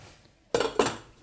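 A metal lid clanks twice onto a saucepan of freshly cooked marinated mushrooms in a kitchen, two quick close clinks about a quarter second apart with a short ring after each.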